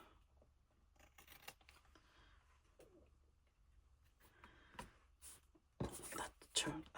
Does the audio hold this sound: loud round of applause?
no